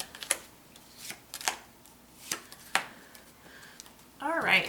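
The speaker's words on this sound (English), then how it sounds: "Let's pull some clarifying cards to see where this takes us." Tarot cards being shuffled and pulled from a deck: a series of soft, crisp card snaps and flicks at an uneven pace, close up, ending in a brief burst of riffling.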